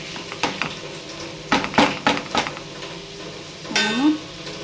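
Curry being stirred in a pan, a spoon scraping and clacking against the metal in several separate strokes over a low sizzle, ending in a longer scrape.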